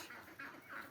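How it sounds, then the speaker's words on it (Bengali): Several ducks let loose in a village yard where chickens also roam give a few faint, drawn-out honking quacks, spaced through a quiet moment. "হাঁস ছেড়ে দিয়েছি।"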